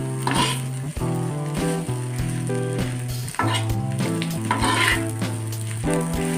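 Kothu parotta, street-food style torn parotta, is mixed and fried in a pan at home, its sizzle and stirring scrapes running under prominent melodic background music.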